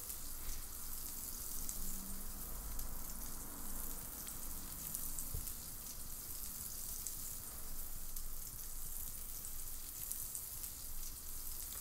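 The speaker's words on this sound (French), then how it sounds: "on va bien griller le rhum steak sur chaque face pendant 30 secondes" A rump steak sears in a hot pan and is turned with wooden utensils, giving a steady, fairly quiet crackling sizzle that holds evenly throughout with no talk over it.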